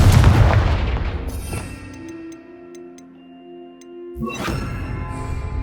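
A Confringo blasting spell in the Hogwarts Legacy video game bursts with a loud, broadband boom at the start, then decays into a ringing, tonal tail with faint ticking before a second loud crash swells in near the end.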